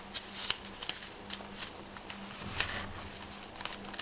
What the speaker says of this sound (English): we'll wrap a coin inside our paper